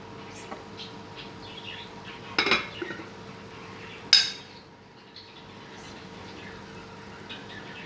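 Saag kofta in buttery gravy being served into a dish, quiet room tone broken by two sharp metallic clinks of spoon against pan or plate, with a few softer taps in between.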